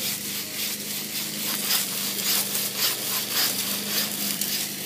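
Wood being cut by hand with a saw during a volunteer working bee clearing overhanging trees along an unsealed road; rhythmic, gritty rasping strokes repeat steadily at close range.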